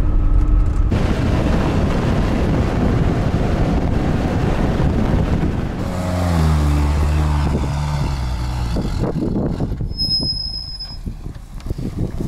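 A Lada Niva 4x4 drives along with a loud, steady engine and road rumble mixed with heavy wind buffeting against the microphone, and the engine note rises through a gear change partway through.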